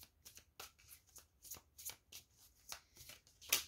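Tarot cards being shuffled by hand during a reading: a rapid series of crisp riffling and slapping bursts, close and fairly quiet, ending in a sharper snap, with no voices.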